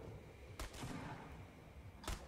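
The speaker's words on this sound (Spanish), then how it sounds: "Ay, que hay tiros." Two sharp, faint gunshots crack about a second and a half apart over quiet background noise in the video game Fortnite, each heard alone without talk.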